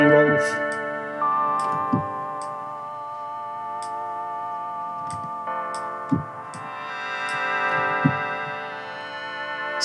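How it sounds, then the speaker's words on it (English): A triangle-wave oscillator on the Bandy VST3 software synth plays a series of sustained, mellow tones that step between pitches, with faint clicks as notes change. "Same, this is a"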